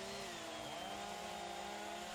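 A chainsaw carves wood at a speed carving championship, a faint, distant, steady whine with a slowly shifting pitch that runs without pause.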